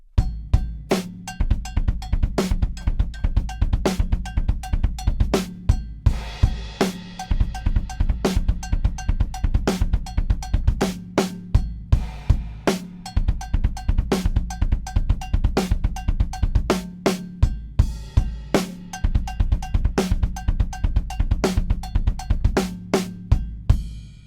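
A drum kit plays a triplet fill at a slowed tempo, with steady loud kick and snare hits under bright cymbal wash that repeats the pattern over and over.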